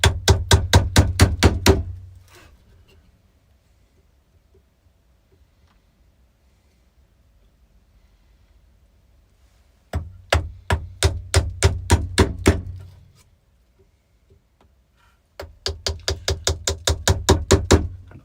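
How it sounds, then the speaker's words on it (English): A chisel pares away wood for a mortise on an epoxy side table, heard as three quick bursts of rapid, sharp, evenly spaced taps. Long quiet gaps separate the bursts, and the sound is close with no speech. "the chisel will move back as we're paring this away"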